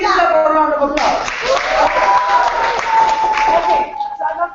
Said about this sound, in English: Okay, give yourself a round of applause.